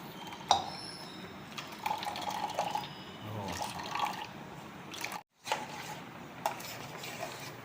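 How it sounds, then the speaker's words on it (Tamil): Thick coconut milk poured into a pot for Kumbakonam paal kozhukattai, a wet liquid splashing and dribbling close by with a few small clinks, alone and fairly quiet. "ஃபர்ஸ்ட் டைம் திக்கு தேங்காய் பால் மட்டும் தான் ஊற்றணும்"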